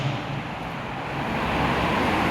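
Street traffic in Chile, a steady broadband roar of passing cars heard from the roadside, building slightly louder toward the end with no talking.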